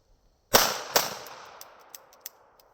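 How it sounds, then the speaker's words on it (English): Two Glock pistol shots fired through a coat pocket, sharp loud cracks about half a second apart followed by a decaying echo and a few faint clicks, no talk. "we're going to do the old gangster carry it in your coat pocket and shooting through the coat pocket"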